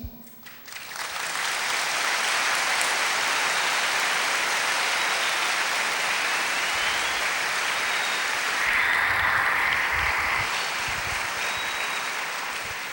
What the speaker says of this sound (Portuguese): Então é para aplaudir mesmo.